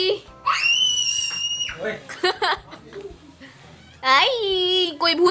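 A young girl screams loudly in shrill, sustained, high-pitched bursts, one early and another near the end, with babbling and other voices in between during a family naming-ceremony gathering at home.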